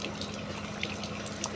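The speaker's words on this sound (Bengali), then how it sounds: "এই যে আদা ধুচ্ছি, এই যে ধোয়ার পরে" Chinese ginger root washed under running water, a steady close wash of flowing water with soft splashing and small drips, no voices.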